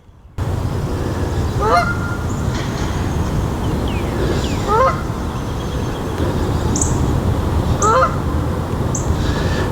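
Several loud honking calls ring out over a pond, spaced apart in short bursts at roughly two- to three-second intervals, above a steady outdoor background hiss.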